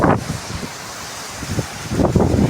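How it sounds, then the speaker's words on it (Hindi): Strong monsoon wind roars across the microphone in gusty bursts in a village after rain, with rustling buffeting noise rising loudly at the start and again near the end. "ये तो बहुत हवा चल रही है यार"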